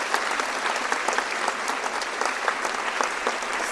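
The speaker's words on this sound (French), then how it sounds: "On peut l'applaudir bien fort" An audience applauds for Samuel, a volunteer at a magic and mentalism show during New Year's greetings in Belfort, with dense, steady clapping that fills the room and holds even for several seconds.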